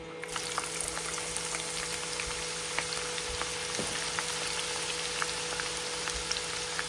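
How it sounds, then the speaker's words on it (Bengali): Onions fry in a pan with a soft continuous sizzle and scattered small crackles and pops, steady and fairly close, with no one speaking. "এখন আমি এই যে পেঁয়াজটা ভাজবো"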